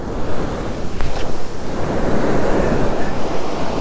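Ocean waves break on a beach at peak high tide, a loud close surf wash with wind buffeting the microphone, rolling continuously with no voices.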